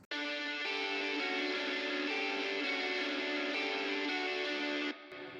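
A sustained, distorted guitar drone with bright, dense upper harmonics holds steady for several seconds, then cuts off abruptly to a quieter tail.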